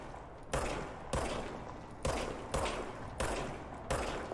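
Service Weapon gunfire in Control, six loud close bursts spaced roughly half a second apart, each a sharp crack trailing into a brief decaying rumble, with no voices.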